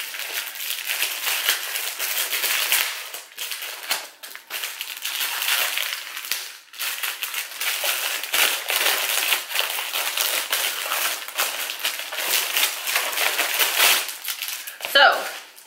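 Plastic bag packaging around a stack of books is handled up close, giving a near-continuous crinkling and crackling, rising and falling in intensity, with a sharper burst at the end.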